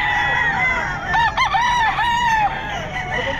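Rooster crowing at a busy pet market, several drawn-out crows overlapping close by against a steady background of crowd noise, with no talk during the calls.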